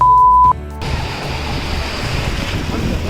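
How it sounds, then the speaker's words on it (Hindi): Ocean waves surge onto a beach at Goa, with a continuous roaring wash of surf and wind buffeting the microphone, after a brief steady tone at the start. "यहाँ की लहरें कुछ ज्यादा उफान मचाती हुई"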